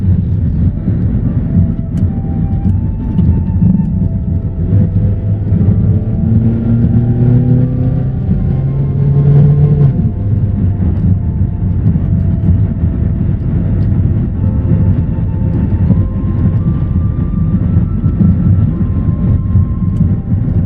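Inside a Toyota Corolla Quest driving through city streets, a steady low engine and road rumble drones on with no talk, the pitch rising and falling gently as the car accelerates and shifts.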